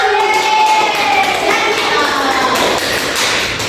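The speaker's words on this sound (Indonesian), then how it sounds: "Tepuk tangan" Children in a primary classroom clap together in a dense, continuous wash of applause, with young voices mixed into the noise.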